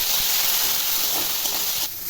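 Loud, steady sizzling hiss of green peas with a little turmeric frying in a hot pan, continuous throughout, dropping slightly in intensity near the end.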